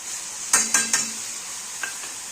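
Soaked lentils tipped into a pan of cooked hadga flower vegetables, giving three quick clinking spoon knocks against the pan, then a faint tap, over a steady low sizzle.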